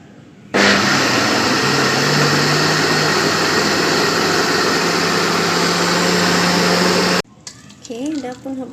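A blender grinds soaked rice with a little water into idli batter, roaring loud and steady for about seven seconds before cutting off abruptly, after which a voice speaks briefly.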